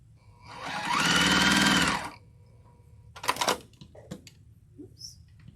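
A sewing machine stitches quilt block pieces in a fast, steady burst of about a second, loud and close, then stops and gives way to a few clicks and handling noises.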